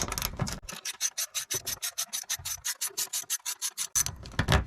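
A ratchet clicks in a quick, even series of about twenty rasping strokes while backing a screw out of a 2020 Chevrolet Silverado 2500/3500 HD during a light bar install, close and clear with no talking.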